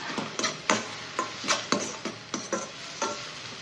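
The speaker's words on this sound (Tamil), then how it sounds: "ஒரு பெரிய வெங்காயம் நல்லா பொடி பொடியாக கட் பண்ணி வச்சுருக்கேன் இதை சேர்த்துக்கிறேன் வெங்காயம் வதங்கட்டும்" Finely chopped onion sautéing in a pan for a bell pepper masala, with a steady sizzle broken by sharp, regular scrapes and clinks of a spoon stirring against the pan, fairly close.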